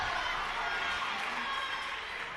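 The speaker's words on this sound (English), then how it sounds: "Some people in the crowd not really liking that call" Spectators at a women's college volleyball match, North Greenville against Southern Wesleyan, give a steady, broad crowd murmur of mixed reactions at moderate distance, with indistinct voices blended throughout and no sharp peaks.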